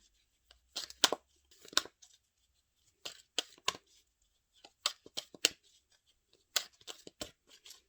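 Tarot cards being cut and dealt out for a reading, heard as crisp clustered card snaps and slaps in several short bursts with quiet gaps between, close up and with no talk.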